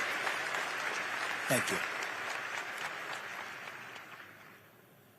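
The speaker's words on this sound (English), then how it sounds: "And give your governor a round of applause." A crowd at a public remembrance event applauds the governor with a steady, dense wash of clapping that slowly tapers off, while a nearby voice speaks briefly over it.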